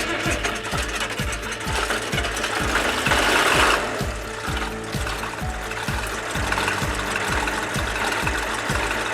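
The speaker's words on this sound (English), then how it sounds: "It is a chilly morning and I didn't know if the tractor would start." A diesel tractor idles on a chilly morning after its glow plugs are warmed. The engine knocks in a steady, rapid mechanical rhythm, close and loud, with a brief swell of higher clatter partway through.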